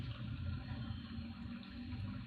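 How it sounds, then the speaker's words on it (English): Water runs steadily from a switched-on smart home water feature, a constant rushing and splashing wash that stays close and even throughout, with no voices. "In this case, we are operating a water body."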